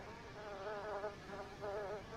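Flies buzz steadily in The Sims Histórias de Náufragos (castaway stories), a close, wavering insect drone swelling in two bursts with no talk.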